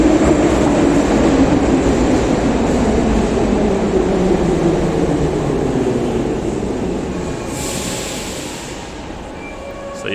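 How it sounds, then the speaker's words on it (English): A metro train pulls into Ploshchad Lenina station with a loud, steady rumble and rush of wheels that fills the platform, fading slightly toward the end as it slows. "The train coming now, I'll just film it for you. It's going to get very loud"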